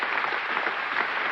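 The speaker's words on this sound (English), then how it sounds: "the whole of the Union standing and applauding this magnificent speech of James Baldwin" A Cambridge Union audience stands and applauds a speech by James Baldwin at a 1965 debate, a dense, steady roar of clapping from a large crowd filling the short stretch, with no talk.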